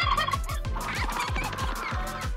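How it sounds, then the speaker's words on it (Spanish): Repeated rapid gobbling honks from a goose, loud and close, in quick bursts one after another with no talking. "un ganso"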